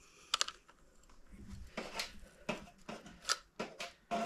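Tape wrapped around the spool of a fishing reel while setting up a new catfish pole, crinkly tearing and sticking sounds in a series of short bursts, close and fairly soft, with no talking.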